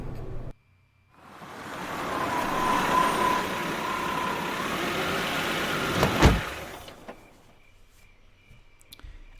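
A car engine from the Death Mark video game hums steadily for several seconds after a brief silence, with a sharp click near the end before it fades to quiet.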